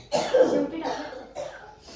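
A few harsh, close coughs in quick succession, with short pauses between bursts and a throaty, raspy quality.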